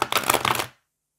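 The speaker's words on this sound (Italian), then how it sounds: "Li mischio" Tarot cards are shuffled in a quick riffle, a dense crackling flutter lasting under a second that stops abruptly into silence.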